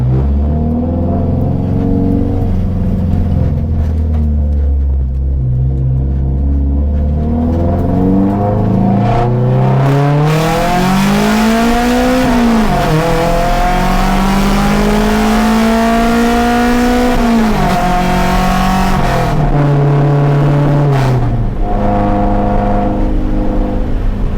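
A 1998 Acura Integra's exhaust revs loudly and close by, the engine note climbing and dropping in several long sweeps with a rough, throaty roar and no talking.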